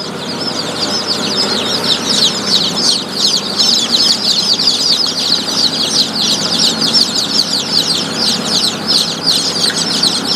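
A crowd of local chicks on a chicken farm, a dense continuous chorus of high cheeping from many birds close by, with a low hum underneath.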